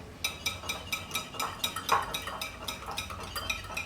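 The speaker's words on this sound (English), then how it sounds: "when you add your gelatine into the eggs, it has to be stirred at the same time" A utensil stirs gelatine into eggs for a chocolate mousse in a bowl, making a quick, regular clinking and scraping rhythm of about a dozen strokes, fairly faint and with no talking.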